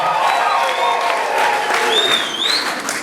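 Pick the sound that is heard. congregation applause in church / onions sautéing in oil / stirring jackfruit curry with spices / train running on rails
congregation applause in church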